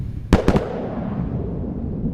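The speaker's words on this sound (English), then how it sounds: "There's the sonic booms." Two or three sharp, booming thuds in quick succession, sonic booms from a returning SpaceX rocket booster landing at the Cape, followed by a rumbling echo that fades away.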